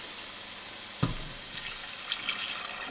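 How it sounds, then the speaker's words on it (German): Water poured into a pot of carrots and other vegetables for green pea soup: a steady splashing rush that begins abruptly and continues over a faint background hiss, with no talking. "Deswegen nehmt ganz einfach Wasser dazu."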